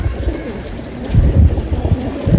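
Low, throaty cooing of about 80 racing pigeons, several birds murmuring together in a steady rumbling chorus nearby.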